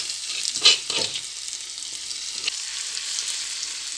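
Garlic fries in oil for a bakso soup broth, giving a soft, continuous sizzle with a few sharper crackles early on and no voices.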